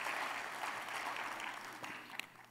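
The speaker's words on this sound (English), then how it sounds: "give those people a round of applause" Applause from a church congregation, a steady, fairly quiet wash of many hands clapping together that continues evenly and fades slightly toward the end.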